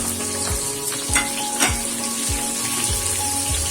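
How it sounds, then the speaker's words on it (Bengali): Chopped onion hisses and sizzles steadily in a hot pan for a keema chana masala, with a few clacking stirs of a utensil spaced through the continuous frying noise and no voices. "এবার পেঁয়াজ কুচিটা দিয়ে দেবো"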